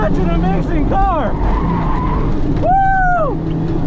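Toyota MR-2 Spyder on a race track, its tires squealing in two sharp, rising-and-falling bursts as the car rotates through a corner, over a close, continuous engine note and road roar.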